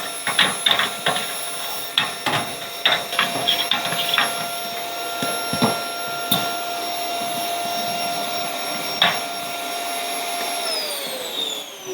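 A vacuum cleaner fitted with an upholstery brush runs steadily while cleaning delicate fins, a constant whine broken by repeated short scraping bursts as the brush passes over them.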